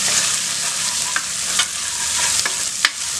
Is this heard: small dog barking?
no